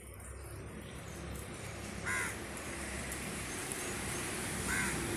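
Two short crow caws ring out a few seconds apart against a faint, steady outdoor background.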